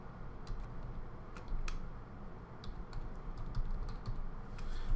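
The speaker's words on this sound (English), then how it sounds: "I'm going to type in my name" Fingers type steadily on a computer keyboard to enter text in AutoCAD, with close, soft clicks and a few sharper key taps over a low background hum, no talking.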